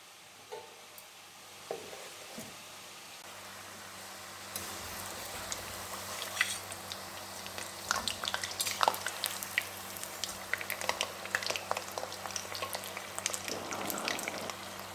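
Rice flour murukku frying in hot oil: a faint, soft crackle that builds after a few seconds into a denser, busier sizzle with scattered pops.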